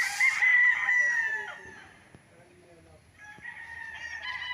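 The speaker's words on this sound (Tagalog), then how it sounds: "maraming mga manok kasi ito ay isang game farm" Chickens and a rooster on a game farm crow and cluck close by, a loud crow at the start fading into quieter clucking with another crow rising near the end.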